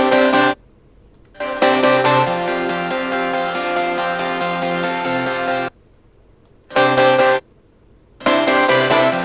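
Wide, bright synth chords from an FL Studio project sound in blocks, a long held chord followed by shorter bursts separated by silent gaps.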